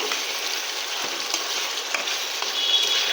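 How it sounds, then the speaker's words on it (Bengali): Pre-fried potato pieces sautéing in a pan for an egg-potato curry, a dense continuous sizzle with occasional soft scrapes of stirring, close and even, with no talking. "এখানে আলুকে আমি কেটে ভেজে রেখেছিলাম, এটাকে সাথে দিয়ে দেব। দিয়ে এটাকেও ভালোভাবে কষিয়ে নেব আমি"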